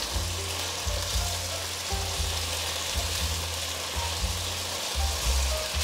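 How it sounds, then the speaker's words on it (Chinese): Fried eggplant and oil tofu sizzle in sauce in a wok, with a steady crackling hiss and rhythmic low clatters as the pieces are tossed and stirred quickly. "放入炸好的茄子，油豆腐也放进来，快速翻炒，让酱汁都吸附到茄子里面"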